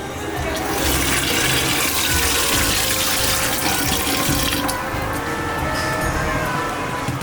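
Water running and splashing over butter being washed by hand to make homemade desi ghee, a loud continuous gushing stream filling the whole stretch with no voices.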